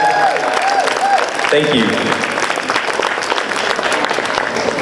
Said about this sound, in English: Let's give them all a big round of applause, everybody.